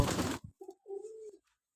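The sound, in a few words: pigeon cooing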